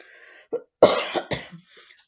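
Several separate coughs from a person sick with flu, close and fairly loud, with short pauses between bursts and no speech.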